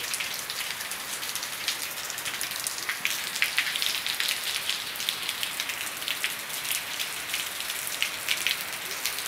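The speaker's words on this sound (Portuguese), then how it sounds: "Continua chovendo, a chuva bem mais branda." Steady rain falls on surfaces in rural Maranhão, Brazil, a dense, even patter with scattered louder drips, continuous throughout and without any voices.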